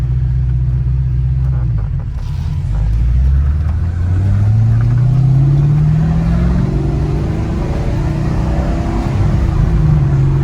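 Heavily modified Corvette C6 LS2 engine with leaking injectors rumbling loudly from inside, then revving to 4,000 RPM with a rising pitch as it accelerates, steady and close.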